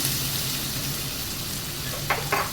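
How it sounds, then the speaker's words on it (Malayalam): Ginger garlic paste sizzles steadily in a hot pan while being sautéed for aloo pulao, a constant close frying hiss with a couple of brief scraping stirs near the end. "നമുക്കൊന്ന് ഇളക്കി മിക്സ് ചെയ്യാം ഇതിൻ്റെ പച്ചമണമൊക്കെ ഒന്ന് മാറുന്നവരെ ഒന്ന് വഴറ്റിയെടുക്കാം"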